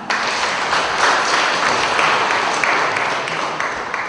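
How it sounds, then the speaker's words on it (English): Steady applause from an audience at a memorial gathering, many hands clapping in a dense, continuous wash that holds at an even, fairly loud level throughout. "We can give a bigger hand clap."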